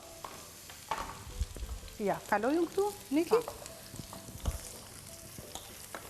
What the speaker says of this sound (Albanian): të gjithë këto perime të nxehen në zjarë